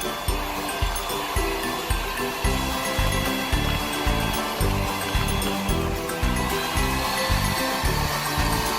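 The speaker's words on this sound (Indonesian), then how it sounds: "mix telur dan gula selama kurang lebih 15-20 menit hingga adonannya putih, kental, mengembang dan berjejak" An electric hand mixer whirs loudly and steadily at high speed, beating eggs and sugar for steamed brownie batter, its beaters knocking against the bowl in a rapid, regular pulse that fills the whole stretch.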